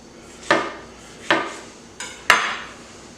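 A knife rough-chopping tomatoes on a board for stock, four distinct close thuds spaced at uneven intervals, alone without talk.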